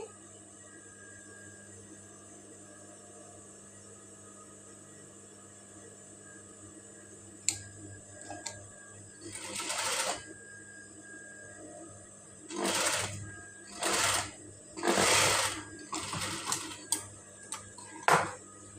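A sewing machine stitching a ruffled fabric sleeve, running in several short bursts of rapid whirring stitches separated by quiet pauses and small clicks as the cloth is adjusted.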